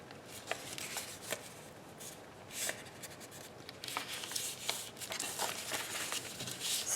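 Paper is handled and folded in half with quiet crinkling, rubbing and sharp creasing taps, soft and close, repeating irregularly over several seconds with no talking.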